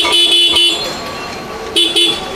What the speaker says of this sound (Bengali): হর্নটা কি শোনাবেন একবার? আরেকবার শোনান।